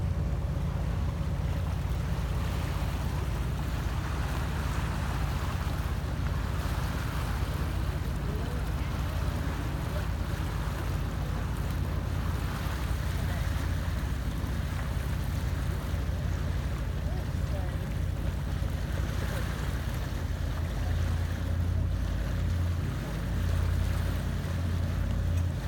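A tour boat cruising on the Wisconsin River in Wisconsin Dells, with a steady low engine drone and water wash running throughout, moderately loud, while a guide talks over it.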